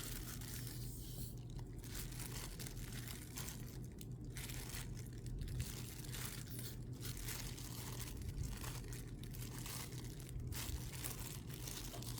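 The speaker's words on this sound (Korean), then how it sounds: "칼로 써는 것보다 이렇게 찢어 먹는 게 맛있습니다" Kimchi is pulled apart by hand, giving soft, wet tearing and crunching bursts repeated several times at close range over a quiet, steady background.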